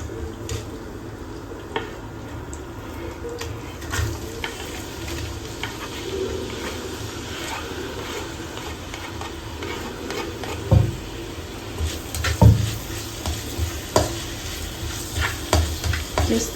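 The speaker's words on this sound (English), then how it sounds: "Just stir it until it becomes slightly brown." Onions fry in a pan over raised heat with a constant sizzle, while a spoon stirs them with intermittent scrapes and knocks against the pan, some louder clatters standing out toward the end.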